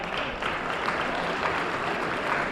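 A crowd at a Harlem community debate claps steadily in a dense, moderately loud patter for a couple of seconds, with no speech over it.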